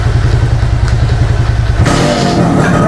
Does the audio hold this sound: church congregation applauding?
no